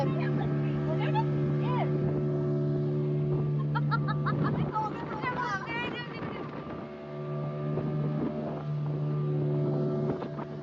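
A motorboat carrying passengers in life jackets rumbles with a steady engine drone on the lake at Maithon, with wind buffeting the microphone and people talking over it at times.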